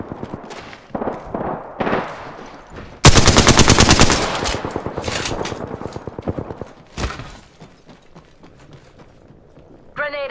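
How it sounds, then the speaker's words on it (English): Gunfire in an online shooter video game, with a loud sustained burst of rapid automatic fire followed by fading shots and impacts, close and intense, with scattered game effects before and after. "They're shooting at me."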